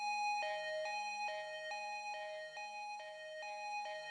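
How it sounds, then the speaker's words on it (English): A buzzy, bright analog fizz synth lead alternates between two sustained notes in a steady, alarm-like pattern, moderately quiet. "It's an analog fizz lead and it's playing two notes."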